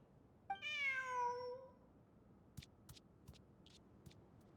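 A cat in the Genshin Impact video game gives one clear, drawn-out meow, followed by a few faint clicks and soft taps in an otherwise quiet setting.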